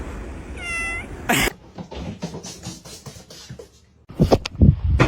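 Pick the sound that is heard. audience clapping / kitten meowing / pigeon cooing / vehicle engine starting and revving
kitten meowing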